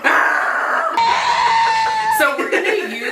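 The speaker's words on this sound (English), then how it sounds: "we're gonna use the sound of this sheep for the bleeping on this episode" A sheep screaming in loud, strained, almost human-sounding cries, close by, with a long wavering call in the middle and people talking and laughing around it.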